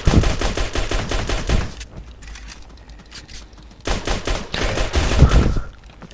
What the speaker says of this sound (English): How did that shotgun blast miss me completely?